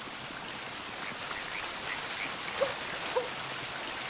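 A waterfall in the forest kingdom of Super Mario Odyssey, a steady broadband rush of falling water with a couple of faint brief plinks, continuous and even at moderate distance.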